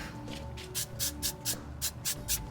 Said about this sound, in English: you can also use just regular extra hold hairspray from Dollar Tree. So all you want to do is just spray it.